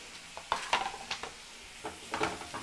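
Spring onion whites are stir-fried over a high flame in a pan for hot garlic sauce. A spatula clinks and scrapes in quick, irregular strokes over a faint sizzle, with no talking.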